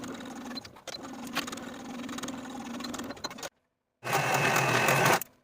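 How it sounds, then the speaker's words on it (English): A sewing machine edge-stitching a dress seam runs in a steady rapid hum of stitching, stops briefly, then starts again for another short burst, close and loud. "take it back to the sewing machine to edge stitch close to that inner fold"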